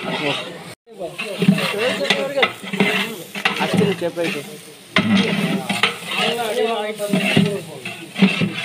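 Garam masala and ginger-garlic paste stirred and frying in a pan for a mutton kuzhambu, a steady sizzle and scraping under continuous talk.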